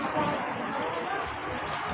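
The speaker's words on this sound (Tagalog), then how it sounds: "Ayan, umuulan na po." Rain falling outdoors in Barangay 129, Manila, near a river, a dense steady hiss of drops, loud and close throughout.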